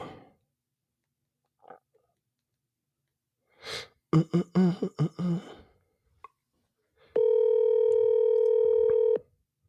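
A telephone call is placed: a quick run of dialing tones, then a steady electronic ringing tone that holds for about two seconds with no answer, heard close and clear after brief rustling.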